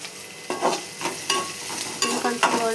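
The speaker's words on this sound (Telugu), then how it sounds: "కొంచెం గోల్డ్ కలర్ వచ్చేదానికి వేయించుకోవాలి" Bottle gourd pieces frying in a pan, a soft sizzle broken by several distinct spatula scrapes and clinks as the pieces are stirred, close and fairly loud.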